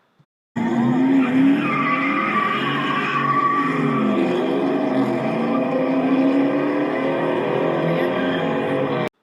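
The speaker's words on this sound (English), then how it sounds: "Here are a couple of Mustangs drag racing in Mexico, one being a Mach 1." Ford Mustangs, one a Mach 1, drag race in Mexico, a sustained loud engine roar with squealing, skidding tires that holds steady for several seconds after an abrupt start.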